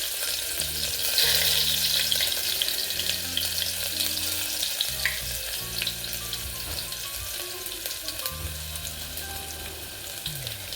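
Green chillies and ginger-garlic paste frying in a pan with cumin, a steady close sizzle with light stirring scrapes throughout, no voices.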